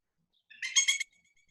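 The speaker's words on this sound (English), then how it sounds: "for those who are maybe not familiar with the Pileated Woodpecker's call" A Pileated Woodpecker call played from a phone bird guide app sounds as one short burst of rapid, ringing notes, thin and close, then quickly fading.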